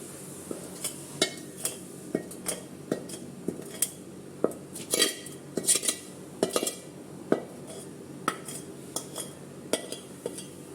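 Cooled caramel is mixed into a wheat cake batter with a utensil in a bowl, giving repeated close clinks and scrapes at an irregular pace, with no speech.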